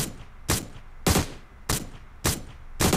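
Bursts of automatic gunfire from a weapon being test-fired with a grip attachment in the mobile shooter PUBG Mobile, five loud evenly spaced volleys about half a second apart, each a sharp broadband crack.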